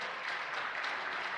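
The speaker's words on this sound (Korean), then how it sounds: "박수 부탁드리겠습니다." Short burst of even, sustained clapping from a church congregation applauding an award at a Korean Presbyterian Sunday service, a steady moderate wash with no voices over it.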